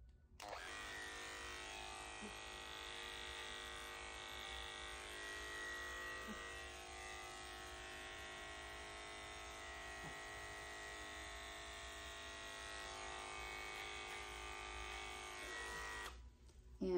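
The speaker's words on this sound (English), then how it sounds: "Using my Heininger Opal Clipper with the 40 blade, I'm going to slide my hands down the ear." A Heiniger Opal electric dog clipper fitted with a 40 blade runs nonstop at close range while trimming a matted Shih Tzu's ears, giving a steady, even buzzing drone that holds at the same level for the whole stretch.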